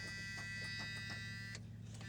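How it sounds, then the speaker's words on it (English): A faint, steady electronic seatbelt warning buzzer with rhythmic pulses inside a 1980 Dodge Power Wagon, under a low engine-like hum, ending shortly before the clip stops. "The seatbelt buzzer's working in here too."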